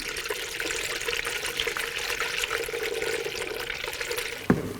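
Coolant in a 50-50 mix pours steadily into the cooling system of a 2000-2006 BMW X5 3.0L inline-six, a continuous trickling splash with a short sharper knock near the end.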